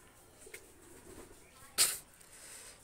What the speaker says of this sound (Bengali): এক পেয়ার সালারা টেডি কবুতর নিয়ে আসলাম দেখেন